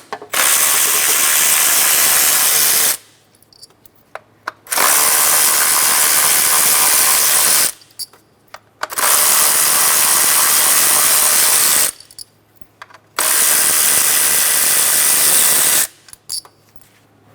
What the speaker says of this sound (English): Using a 10mm socket, remove the ignition coil bolts.